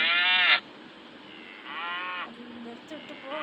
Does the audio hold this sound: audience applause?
no